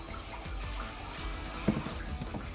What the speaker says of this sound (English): filling up the water bowl